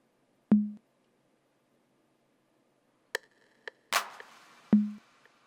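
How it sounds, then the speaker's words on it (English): Sparse Roland TR-808 drum machine hits with delay and reverb ring out with long gaps between them: deep booming kicks, a few sharp clicks and a noisy snare-like hit with a decaying tail. "So let's solo the TR-808 first."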